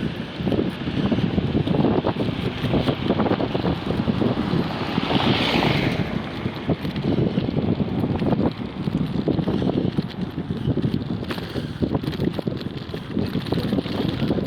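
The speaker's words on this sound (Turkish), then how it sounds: "Şarköy'ün yaz kış rüzgar bitmiyor." Strong gusty wind in Şarköy, Turkey, buffets the microphone, a loud rumbling roar that swells and dips throughout with no talking.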